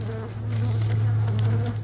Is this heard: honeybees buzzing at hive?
yes